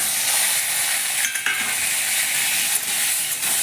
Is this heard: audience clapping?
no